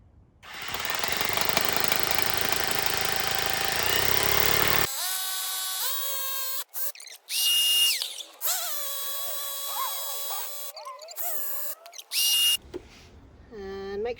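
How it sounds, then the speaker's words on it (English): Powerful rotary hammer drill boring into a wall at home, loud steady hammering for about five seconds, then a quieter whining and revving with stops and restarts. "this is such a powerful rotary hammer drill that it will carve through this like butter"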